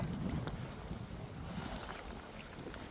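Strong wind at sea beside a fishing boat during a storm, a constant close low roar and buffeting with no voices.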